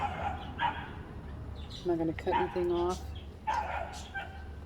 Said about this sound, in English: That's the neighbor's dog, not mine.